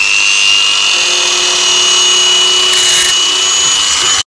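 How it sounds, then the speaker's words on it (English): A high-speed rotary trimmer tool enlarging a hole on an edger trimmer being converted from two-stroke to four-stroke, a loud, close, steady whining grind that runs continuously and cuts off abruptly at the end. "So I have to use my trimmer. Make this hole a little bit bigger"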